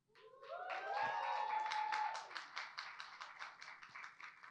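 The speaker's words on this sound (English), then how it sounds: "I hope you give a big round of applause for them" Audience applause rises at a press conference with Brad Pitt and Kerry Condon for the Formula 1 film, swelling to a steady dense patter of claps at moderate distance, with no speech over it.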